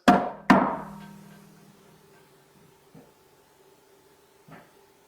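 Two sharp, loud knocks on a wall ring out close together at the start, followed by a few faint, distant knocks later in an otherwise quiet room.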